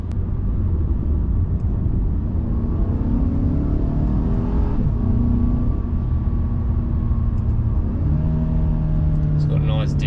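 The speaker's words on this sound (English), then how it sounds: "it's got nice down changes, like blip to the throttle" A 2015 Mercedes-Benz C200 sedan engine hums and revs under steady road rumble, with brief throttle blips on downshifts rising and falling across the run while someone talks over it.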